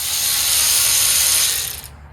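A 16.8V cordless electric ratchet with a 13 millimeter socket spinning off bolts, a steady close whirring buzz lasting about two seconds before cutting out abruptly.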